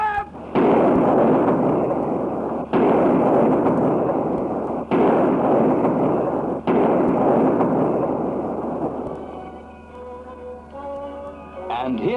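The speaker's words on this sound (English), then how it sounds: "The King's Troop of the Royal Horse Artillery fires a 41-gun salute in London's Hyde Park in honour of Her Majesty's birthday." The King's Troop, Royal Horse Artillery, fires a 41-gun salute in London's Hyde Park for the monarch's birthday, in a 1960s recording: four heavy cannon booms about two seconds apart, each with a long rolling echo, then a fading rumble.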